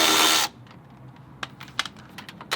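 Power tool spinning out a 13 mm bolt under a BMW F8x, a loud close burst of whirring that cuts off after half a second, followed by quieter scattered clinks and rattles of parts.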